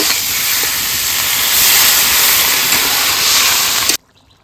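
A loud, steady sizzling hiss as water is poured into fried spices for a koi fish curry fills the clip for about four seconds, then cuts off abruptly into near silence.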